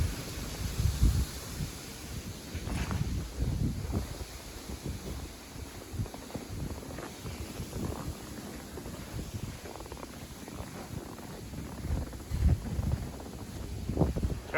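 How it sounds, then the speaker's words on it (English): Strong night wind in a backyard after a New Jersey blizzard, buffeting and rumbling in uneven gusts close to the microphone, with no talking. "it's starting to get really windy"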